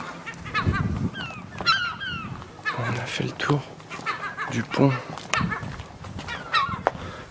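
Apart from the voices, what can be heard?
seagulls calling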